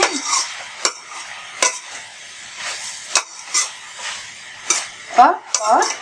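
Tomatoes being stirred into vegetables in a pan for vegetable Maggi masala, with scattered scraping and clinking of a utensil against the pan in short bursts, fairly close and moderately loud.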